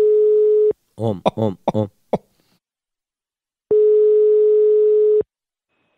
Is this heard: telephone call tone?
yes